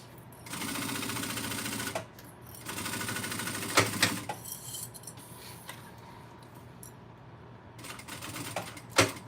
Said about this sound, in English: I'm chain stitching just to save on thread.